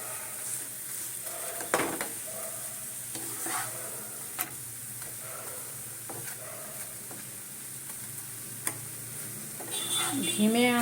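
Lachha paratha frying in oil over low heat, a steady sizzle punctuated by scattered clicks and taps of a utensil against the pan, close by, with faint background sounds near the end.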